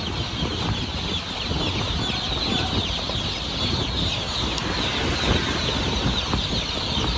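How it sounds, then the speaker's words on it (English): Chicks in boxes on a boat's loading deck give a dense, loud, continuous mass of cheeping over a steady background wash. "See all these boxes? They just have little chicks in them."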